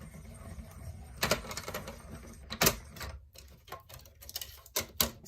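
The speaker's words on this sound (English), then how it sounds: "I'm going to use the circle on this and die cut a circle." Cardstock circle cut with a circle die in a die-cutting machine for card making, heard as a series of clicky mechanical clacks and cranks, fairly quiet, with brief loud snaps spread through the stretch.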